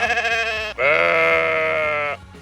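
Sheep on a farm in rural Lithuania let out two loud, close bleats, a short wavering call followed by a longer drawn-out one, with no talk over them.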